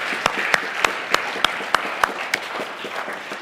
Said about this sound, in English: let us give a great applause to Karen Ives